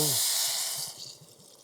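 Broth poured into risotto cooking outdoors at a forest campsite: a brief loud hiss and sizzle as liquid hits the hot pan, settling into soft bubbling and simmering within a second or so.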